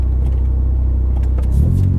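Hyundai Genesis sedan running on E85 fuel with aero parts, its engine rumbling low and steady before a deeper surge of revving as it pulls away near the end.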